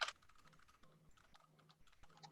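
Quiet, irregular clicking of keys being typed on a computer keyboard, a close run of light taps with brief pauses and no talking.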